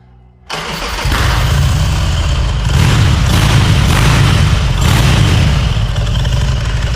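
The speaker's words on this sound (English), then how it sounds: "Let's see if we can start this thing." After a moment of quiet, an engine cranks and fires, then settles into a loud, steady, throaty rumble close by, idling without pause and with no talk over it.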